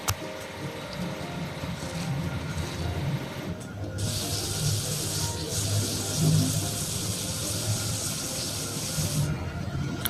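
Pressurized water sprays onto a used truck being washed clean beside a pond, a loud steady hiss that starts abruptly partway through and holds over a continuous low background hum.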